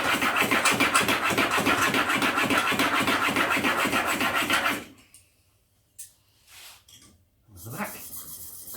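A steel chisel worked back and forth on a fine sharpening stone, giving a steady rhythmic rasping scrape for about five seconds that then stops, followed by a few faint brief rubs.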